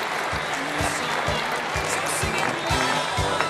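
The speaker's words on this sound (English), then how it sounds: "Let's give those 11, 12, and 13-year people a round of applause" Audience applause for long-serving volunteers of a school reading program, dense, loud clapping from a crowd with regular low thumps beneath it, no speech over it.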